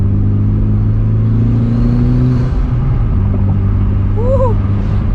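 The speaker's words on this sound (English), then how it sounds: "this car without a muffler still sounds freaking decent" A Mitsubishi Lancer Evolution with its muffler deleted idles and revs, a loud, close, raspy engine drone that shifts pitch midway, with a faint voice briefly audible near the end.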